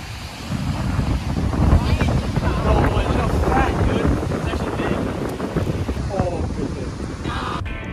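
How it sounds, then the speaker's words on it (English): Steady, heavy wind buffeting the microphone outdoors while fishing, a constant low rumble and roar with faint voices underneath. "I'm sorry for the wind. It's just kind of windy out here."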